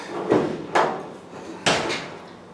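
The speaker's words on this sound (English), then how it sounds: "Get the door to go on there." GE dryer door and front panel being fitted during a vibration repair: three loud knocking thumps of panel and door parts at close range, with softer rattles in between.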